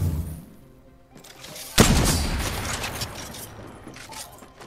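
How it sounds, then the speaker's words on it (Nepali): A charge rifle fired in the Apex Legends video game, one heavy booming discharge near the middle followed by a crackling, rumbling tail and scattered smaller gunfire, after a quieter mechanical lead-in. "यो चाहिँ चार्ज राइफल भनौँ न यसको रेन्ज अलिक टाढासम्म जान्छ अनि यसरी हान्छ बम जस्तो पड्काउँछ"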